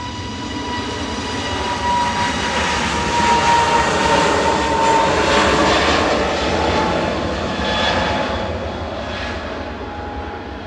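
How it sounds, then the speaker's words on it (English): An EasyJet jet airliner departs Manchester Airport, bound for Tenerife South, its broad engine roar building steadily and holding loud and continuous throughout, with no talk over it. "EasyJet departing to Tenerife South,"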